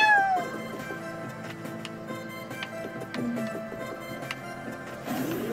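Cat in the video game Flewfie's Adventure meowing, short tonal mews against steady game music with a few soft ticks, no talking.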